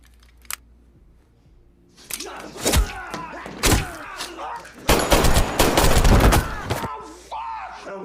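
Gunfire in a Mexican cartel action film: after near silence, loud bursts of shots and impacts arrive in quick clusters, some rapid like automatic fire, filling most of the clip with no talk.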